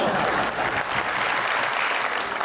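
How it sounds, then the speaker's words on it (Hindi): A studio audience on a Pakistani TV talk show claps, a dense even burst of applause filling the moment without speech on top. "सवेरा, जो तुम तालियां बजा रही हो ना"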